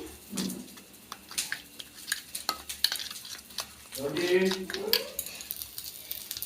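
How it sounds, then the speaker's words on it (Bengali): Spice paste of ground cumin and coriander being stirred with a little water in a metal bowl, a close, uneven run of scraping and clinking strokes with brief pauses between them. "এবার আমি মশলাটাকে একটু গুলিয়ে নিচ্ছি"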